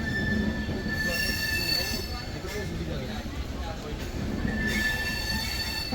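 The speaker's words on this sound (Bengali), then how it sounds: "আমাদের ট্রেন এখন ছেড়ে দিছে শালিমার থেকে পুরী যাচ্ছি আমরা" Train pulling out of Shalimar station in Kolkata on a superfast express to Puri, with a steady rumble of rolling wagons and a thin, sustained wheel squeal rising and falling, heard from on board amid faint background voices.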